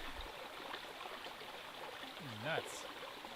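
A creek flowing through an Idaho rainforest, a faint steady wash of running water in the background, with a brief rising and falling voiced sound near the end.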